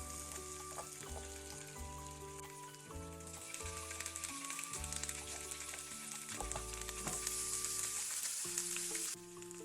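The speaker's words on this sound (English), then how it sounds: "Now the pan is heated with olive oil, and we're just throwing the sausage." Plant-based Italian sausage fries in heated olive oil in a pan, giving a soft, even sizzle. The frying sits low under steady background music.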